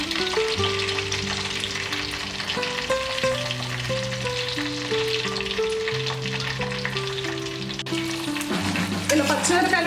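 Green chillies frying in a hot kadai give off a steady, close sizzle that runs under louder background music for the whole stretch, with no break in the hiss.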